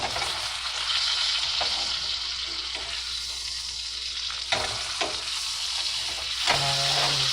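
Beef steak frying in a hot pan, a loud, steady hissing sizzle heard close up, with a few clanks and scrapes from the pan.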